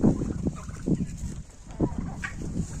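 Several chickens and turkeys call in a yard in the morning, with repeated clucks and gobbles close by.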